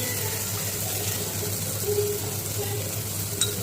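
Steady, close sizzling of spices frying in a hot pan, a continuous hiss with faint scraping, no talking.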